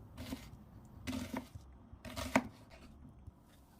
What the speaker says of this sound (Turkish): İki orta boy soğanı da yine küp küp doğruyorum